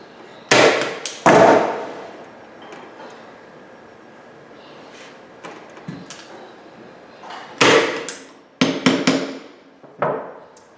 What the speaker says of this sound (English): I'm really pushing it into that corner again and stapling off.